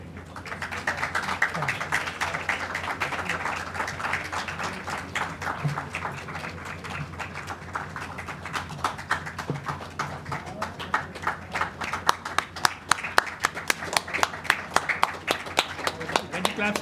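Conference audience clapping in a room, a continuous patter of many hands that becomes sharper and more distinct later, with people talking over it throughout.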